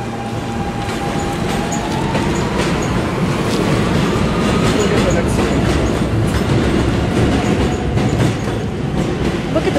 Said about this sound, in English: How about we chase the train and catch it?